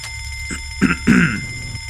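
Loud ringing bell in the video game Fallout London, a harsh metallic clang rattling in short repeated bursts, close and dominant over a low background hum.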